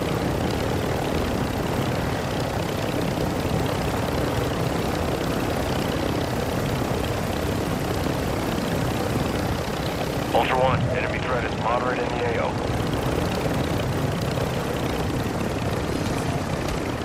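Helicopter flying in Call of Duty DMZ, a steady broad rotor and engine roar holding constant throughout, with a brief burst of chirping effects near the middle.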